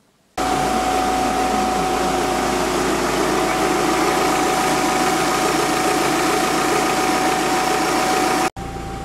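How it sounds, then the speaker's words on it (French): An Audi car engine idles steadily for about eight seconds, a loud continuous hum with a constant tonal whine, cutting off abruptly near the end. "je vais écouter le bruit de l'Audi"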